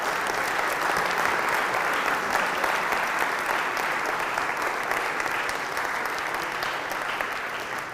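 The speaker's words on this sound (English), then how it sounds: "Give them a round of applause." A lecture audience bursts into sustained applause for the people responsible for a classroom, a steady, dense wash of clapping that holds for the whole stretch with no talk over it.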